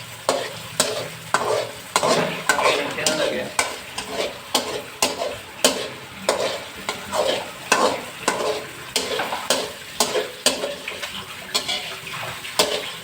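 Onions and tomato paste fry for biryani while being stirred, with a rhythmic run of scraping stirs about once a second over a constant close sizzle, no talk.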